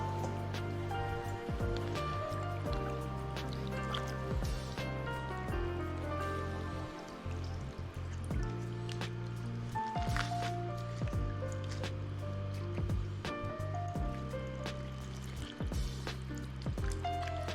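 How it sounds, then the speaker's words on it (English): Salted napa cabbage being rinsed under running water in a kitchen sink, a continuous close splashing trickle with drips and sloshes as the leaves are handled. "I'll run it a couple more times underwater in my sink."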